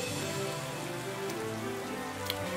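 Steady rain falls in the snowy Crown Tundra of Pokemon Sword, a continuous even patter across the whole stretch, under soft game music, with no voices.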